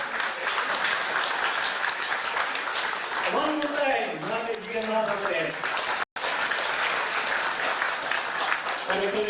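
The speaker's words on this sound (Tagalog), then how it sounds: "Palakpakan mo natin ang Panginoon." Applause from guests fills a gathering for a couple's 50th wedding anniversary celebration, steady and continuous, with a voice speaking over it for a while mid-way before the clapping carries on alone.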